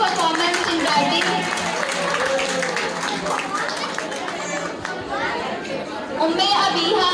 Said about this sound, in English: Please clap for his brilliant performance in writing.